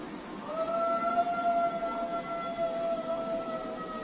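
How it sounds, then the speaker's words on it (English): A long, wavering high-pitched howl from an old dog holds steady for several seconds over a noisy background with other dogs, sounding thin and strained rather than full-throated. "so I'm wondering if this was just a really old dog trying to howl"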